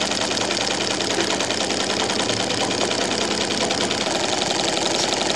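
A marine twin steam engine runs on a Stuart 504 boiler, giving a continuous dense mechanical chuffing and clatter, steady and close with no pauses.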